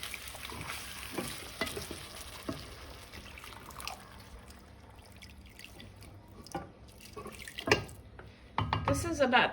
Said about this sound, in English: Now she's going to add some hot water.